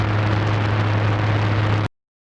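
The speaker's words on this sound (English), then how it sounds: "noise is an overlay of many different frequencies, like in white noise, where frequencies are overlaid over the whole audible spectrum." Steady, loud broadband white noise hisses evenly across the whole range with a low hum beneath it, then cuts off abruptly to silence just before the end.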